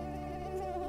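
Close, continuous high-pitched mosquito whine with a steady tone and a slight waver, alone for about a second.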